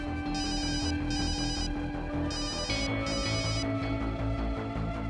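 Telephone bell ringing in repeated bursts over a steady background music score in a tense crime drama scene, loud and close, with no voices over it.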